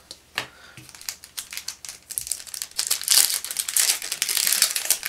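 A trading card pack wrapper is torn open and crinkled up close, sharp crackling foil bursts building into a dense, continuous crumpling rustle, with no speech.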